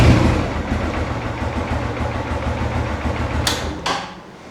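A Honda CG 150 motorcycle engine runs just after its first start of the day, a steady close idling putter with a rhythmic low thrum that fades slightly at the end.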